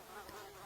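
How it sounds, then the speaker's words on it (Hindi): Mosquitoes buzz in a thin, steady whine during a hot summer indoors, a brief close drone with no talking. "इन मच्छरों ने गर्मी में काट काट कर सारा खून पी ही लिया है।"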